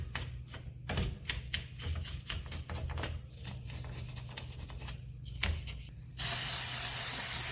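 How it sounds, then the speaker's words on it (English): Brake cleaner sprayed onto Polaris rims comes in short, rapid hissing bursts, then becomes one loud, continuous spray near the end, close up and with no talking. "Got some brake cleaner."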